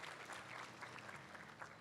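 Audience applause at a state fair cattle show, a steady wash of many hands clapping that stays faint and distant for its whole short span, with no talk over it.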